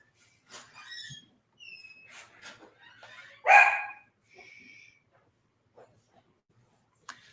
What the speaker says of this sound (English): Dog always has to get his 2 cents in on the live stream